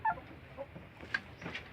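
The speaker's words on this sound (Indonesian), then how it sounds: "Inilah induk-indukan ayam yang saya pelihara biasa." Free-range kampung hens cluck softly a few times, close by and fairly quiet, in short scattered bursts over low background noise.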